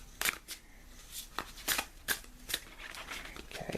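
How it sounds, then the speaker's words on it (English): A deck of tarot cards is shuffled close by in a quiet room, giving several quick riffling bursts spaced irregularly over a few seconds, with no talking. "Shuffling once more."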